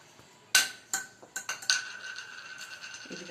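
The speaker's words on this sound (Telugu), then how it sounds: "ఉప్పు వేసుకున్న తర్వాత మొత్తం మిశ్రమాన్ని ఈ విధంగా కలుపుకోవాలండి" A spiced dough mixture being mixed in a bowl brings several close, sharp clinks and knocks of a utensil against the bowl, followed by softer scraping.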